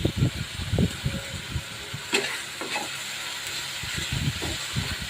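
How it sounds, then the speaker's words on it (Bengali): Spices frying with taro leaves and hilsa fish, stirred in a pan with a steady sizzle and hiss, plus repeated scraping knocks from a spatula at close range. "এখন মশলা ভুনে এর মধ্যে কচু শাক আর ইলিশ মাছ দিয়ে ভালো করে ভুনা করে নিচ্ছি"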